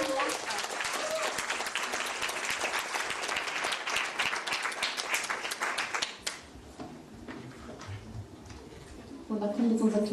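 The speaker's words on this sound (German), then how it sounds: "Bitte einen Applaus." An audience at a folk music and dance performance claps loudly in dense applause for about six seconds, which then stops abruptly as a voice begins talking.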